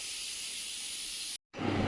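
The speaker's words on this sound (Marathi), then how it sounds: "इथे आता काकींनी गॅसवर कुकर देखील चढवला आहे" A pressure cooker on a gas stove hisses steam in a steady, bright, close rush, cut by a brief silence before a fuller, louder burst of hiss with a low rumble.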